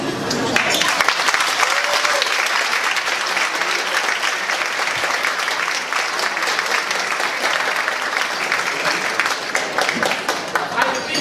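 Sustained, dense applause from a large audience after Martha Rogers' keynote at the 2019 DMCNY Silver Apple Awards, steady and loud from start to finish.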